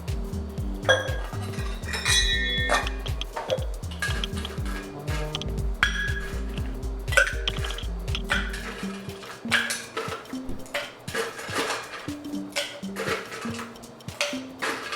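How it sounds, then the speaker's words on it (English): Lots of ice rattles and clinks hard inside a cocktail shaker for a Bloody Martini, rapid rhythmic shaking up close that gives way to scattered clinks and taps. "we wanna make sure that we have a lot of ice to shake it with so it can remain cold"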